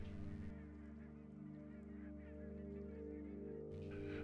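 Egyptian geese in the Mababe area give harsh, drawn-out honking calls over a steady low drone, fairly faint and distant.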